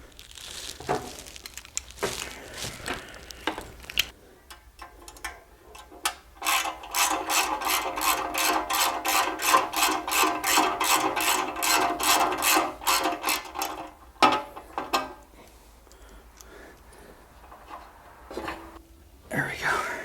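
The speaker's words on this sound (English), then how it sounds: "Now we'll get the blower cover off," A ratchet clicks steadily in a fast run of sharp ticks while the blower belt cover comes off a supercharged big block jet boat engine, close and fairly loud, with muffled talk and handling noises before and after.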